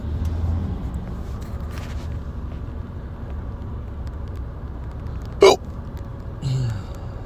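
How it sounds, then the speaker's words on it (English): A single sharp hiccup bursts out near the end of the clip, with a softer second hiccup-like sound just after, over a steady low rumble of road traffic in the background. "Hiccups."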